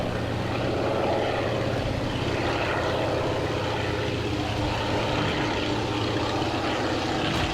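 Steady droning propeller engine hum of an Antonov An-2 in a flight simulator game, continuous and fairly loud throughout, with a low rumbling drone and no voices.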